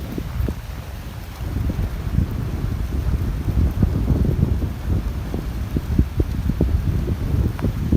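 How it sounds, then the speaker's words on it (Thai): Strong wind gusting over floodwater beside a work site, buffeting the microphone with low rumbling bursts and a rushing, splashy texture that swells and dips throughout. "วันนี้ลมแรงมากเลยนะครับ"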